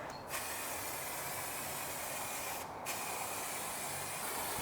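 Lacquer sprayed onto a car part during an E36 coupe V8 swap build: a steady, continuous aerosol hiss close to the microphone, running the whole time without a break and without talk.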